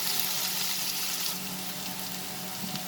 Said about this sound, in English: saute it, just for a minute over high flame